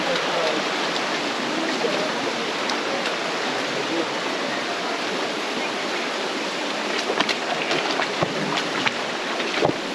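Continuous roaring rush of a waterfall in Zion National Park, loud and close, with a few scattered splashes and thumps mixed in.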